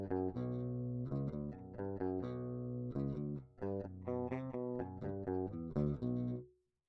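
Clean DI signal from an ESP LTD seven-string guitar tuned to B standard, recorded dry. Choppy, palm-muted low riffs and short chord stabs sound close and unprocessed, ending with a quick cutoff.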